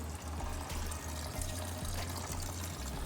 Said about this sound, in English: So we're draining the water right now.